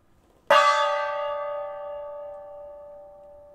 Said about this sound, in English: And I guess we can do our first gong hit of the night